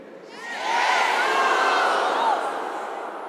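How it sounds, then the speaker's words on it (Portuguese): A church congregation shouts "Jesus" loudly together, a massed roar of voices that swells, holds and then fades slightly. "Mas gritar Jesus é só para quem tem fé"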